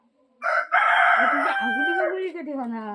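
A rooster crows once in a garden with mango, cashew and jackfruit trees, a loud, near, drawn-out call lasting nearly three seconds.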